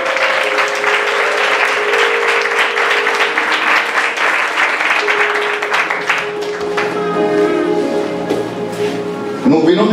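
A church congregation at an international convention in Côte d'Ivoire bursts into loud, sustained applause that fills the space, dense clapping holding steady before thinning out near the end as a sustained musical tone rises underneath.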